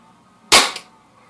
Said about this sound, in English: Shot number 2 with the RWS.